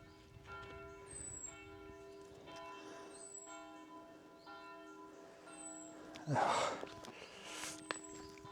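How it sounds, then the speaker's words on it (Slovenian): Church bells ring at noon from afar during an outdoor climb in Primorska, Slovenia, their steady sustained tones sounding faintly beneath rustling and breathing nearby. "Pa še zvoni, ki je lih točno poldne ura."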